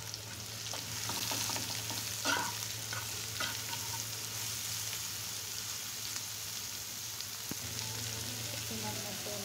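Onion and garlic fry lightly in a pan with turmeric and poppy seeds for a bitter gourd (ujte) fry, giving a steady, close hissing sizzle with a few soft stirring clicks and no talk.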